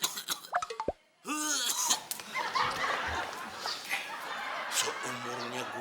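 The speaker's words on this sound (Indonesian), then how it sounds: "ngedenger burung hantu pakai batuk segala" A comedy owl hoot effect, given a comic cough, sounds at night amid a busy room with chatter and laughter; a short plop and falling tones open it before a sustained noisy stretch.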